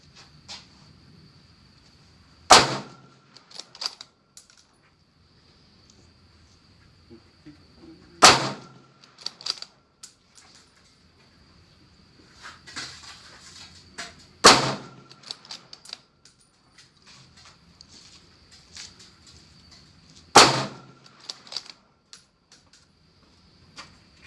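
A Ruger RPR rifle firing Federal American Whitetail 129 grain ammunition: four sharp, loud shots evenly spaced about six seconds apart, each with a short echoing tail, and quiet range ambience between them.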